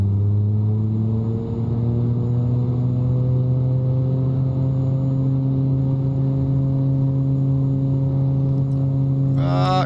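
Engines of an X-Plane 11 simulator aircraft hum steadily and loudly through the whole stretch, their layered drone rising slightly in pitch as the throttles push forward for takeoff, with a brief higher whine near the end.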